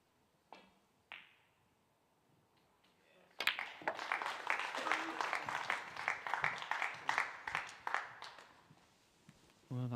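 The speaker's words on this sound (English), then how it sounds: "that little ripple of applause you can hear in the auditorium" A ripple of applause fills a snooker arena after a frame is won at UK Championship qualifying: a few faint claps, then a sustained wave of medium-distance clapping from the auditorium crowd.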